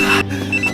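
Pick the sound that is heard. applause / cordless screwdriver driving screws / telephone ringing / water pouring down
telephone ringing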